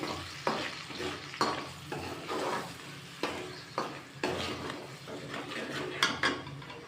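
Mutton frying in a pot as an onion and tomato paste is added and stirred, repeated scraping strokes over a steady sizzle, close and moderately loud, no speech.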